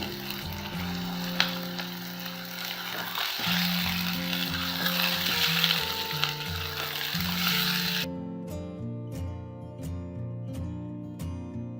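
Chicken pieces sizzling and frying in hot onions in a karahi, a loud steady hiss with occasional stirring scrapes, ending in a softer, thinner sizzle.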